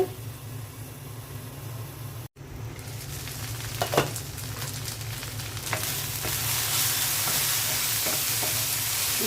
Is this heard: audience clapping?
no